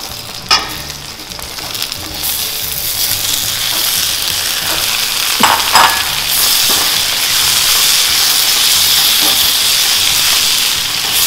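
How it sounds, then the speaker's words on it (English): Garlic, ginger, onions and ripe tomatoes fry for fish sarciado, a steady loud sizzle filling the whole stretch with occasional stirring clatter and brief spatters, no talking. "This one, you have to cook the tomatoes until they're soft."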